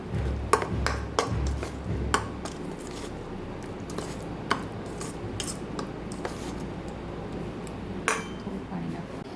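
A spoon stirs moong dal idli batter with capsicum, turmeric and salt in a bowl, giving scattered light clinks and scrapes against the bowl over a faint background hiss.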